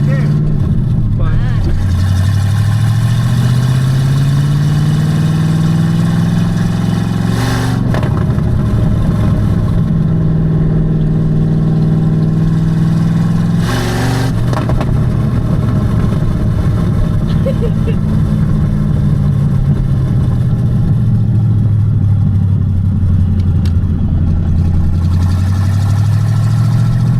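A 1992 Ford Foxbody Mustang engine runs close by throughout, idling steadily with several rising and falling revs, its pitch sweeping up and down; voices talk now and then over the engine.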